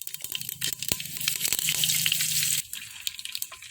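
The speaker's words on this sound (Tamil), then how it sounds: "எண்ணெய் காய்ச்சிச்சு, கடுகு போட்டுக்கலாம்." Mustard seeds hit hot oil in a village kitchen pan, bursting into a loud, hissing sizzle with scattered pops that crackles for a couple of seconds, then settles to a quieter spatter.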